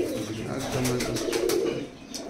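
Original Saharanpuri pigeons give a brief run of low, throaty coos close by, blended with steady background noise.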